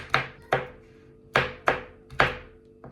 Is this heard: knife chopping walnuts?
yes